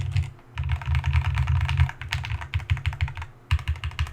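Typing on a custom J80 mechanical keyboard, a dense run of crisp clacky keystrokes in quick bursts with a brief pause, close and loud, no voices.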